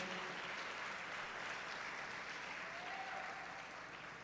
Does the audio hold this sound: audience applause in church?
yes